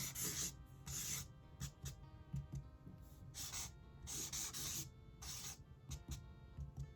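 A Super Sharpie marker drags across paper in short, quiet, scratchy strokes, a string of brief rubbing bursts close by with small gaps between them.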